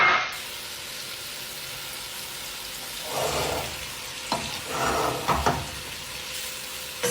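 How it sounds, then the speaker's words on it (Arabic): Shrimp and grated garlic sizzle steadily in a frying pan, with louder bursts of hissing and stirring as the food is turned, close and continuous with no talking. "الحين اقلب الربيان وبعدين اضيف على طول الثوم المبشور"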